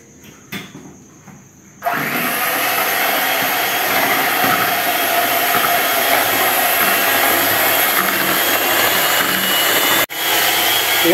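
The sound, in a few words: electric mixer whipping egg whites until stiff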